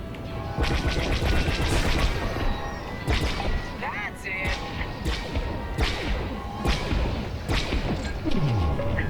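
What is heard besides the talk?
bombs exploding at core in video game Starhawk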